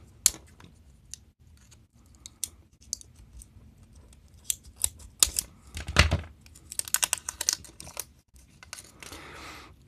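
Scissors cutting and prying plastic sleeving off a camping light's battery pack, close and busy with irregular clicks, snips and crinkly plastic rustles that cluster more densely toward the end.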